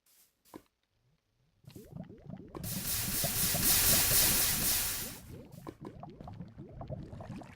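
A bucket scoops water in Minecraft: two short clicks, then a sloshing, bubbling pour that swells into a long hissing rush and fades back into gurgles.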